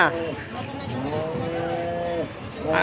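A pair of bulls at a weekly cattle market in Anantapur, India, moo in long, low bellows, one call after another close by, with a new moo starting at the end.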